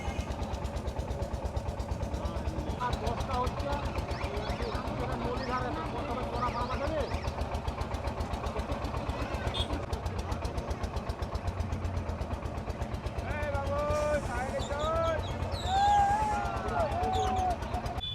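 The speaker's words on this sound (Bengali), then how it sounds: "কুড়ি টাকা দিয়ে একটা ইঞ্জিন ভ্যানে উঠে পড়েছি।" Steady rattling thrum of a small motorized engine van running throughout a ride to a crowded fair, with voices talking over it and a brief horn-like tone near the end.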